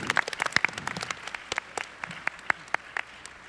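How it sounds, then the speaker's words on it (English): A convention audience at BronyCon 2015 claps for the military bronies, a sparse, uneven round of individual hand claps with sharp separate hits rather than a dense roar, moderately close. "can I get a random round of applause for our military bronies?"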